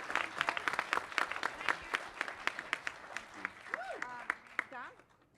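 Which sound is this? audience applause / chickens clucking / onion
audience applause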